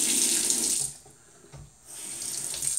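Tap water runs over a RazoRock Teck II safety razor, a steady hiss that breaks off for a second, gives a short splash, then comes back and runs on without anyone talking.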